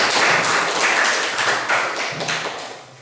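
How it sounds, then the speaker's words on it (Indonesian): An audience at an inspirational talk event claps together, a loud, close burst of dense hand claps that holds steady and then gradually eases off. "Baik, tepuk tangan sekali lagi."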